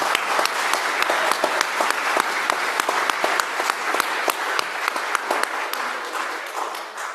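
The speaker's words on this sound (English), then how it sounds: "We got to applaud that." A church congregation at a membership Sunday service applauds a couple married over fifty years, with steady, moderately loud clapping that forms an even patter and slowly thins toward the end.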